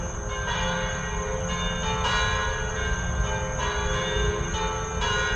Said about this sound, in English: The bells chime.